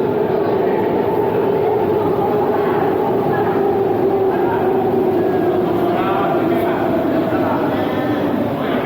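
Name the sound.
light rail train arriving at station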